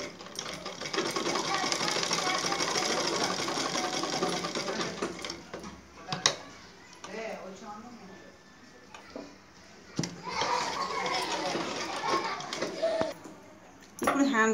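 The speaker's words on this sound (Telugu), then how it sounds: "నేను ప్రస్తుతం వచ్చేసి మిషన్ కుట్టే వేస్తున్నాను" Sewing machine stitching a blouse sleeve, a steady loud whirring run for about six seconds, pausing, then running again in bursts, with a voice speaking over it in the gaps.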